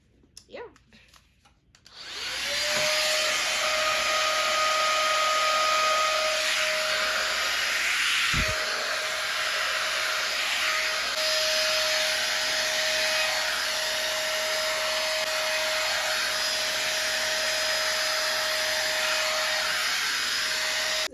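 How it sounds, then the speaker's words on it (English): A cheap Dyson-style hair dryer switches on after a few seconds of handling and runs with a loud, steady high-pitched whine and airy rush while drying hair, with one brief dip partway through. "what I'm gonna do now is finish like dry the rest of the hair completely"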